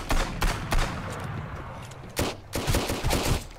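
Shotgun blasts in the Sunkenland game during an assault on a big fortress, several loud sharp reports in an irregular burst with a steady rumbling background between shots.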